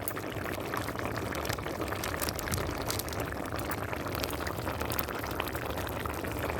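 Banana curry bubbling in a pot, a continuous dense simmer with crackling and gurgling that stays even and close throughout.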